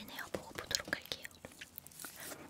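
Crunchy injeolmi-flavored meringue cookies being bitten and chewed up close, with soft irregular crackles and crunches from close-miked eating and faint whispering in the background.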